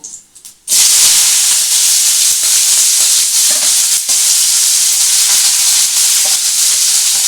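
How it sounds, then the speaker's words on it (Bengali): After a quiet moment, a loud burst of sizzling erupts as chopped onion hits hot oil, then continues as a steady, intense frying hiss. "পেঁয়াজ কুচিটা আমি এর মধ্যে ছেড়ে দেবো"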